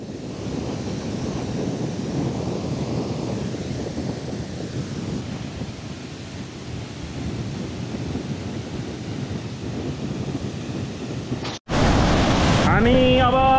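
The Bhoot Chhanga waterfall in Sindhupalchok, Nepal, roars as a loud, continuous broadband rush, heard up close for about twelve seconds before a brief cut and a voice speaking over it.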